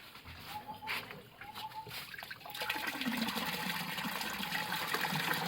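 Snakehead fish fry poured into pond water: faint trickling at first, then a steady, louder rush of pouring water that continues to the end.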